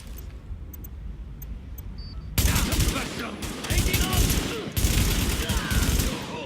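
Gunfire in the video game The Division: a few faint ticks give way to sudden loud, sustained bursts of rapid automatic shots, with a short lull partway before another heavy volley.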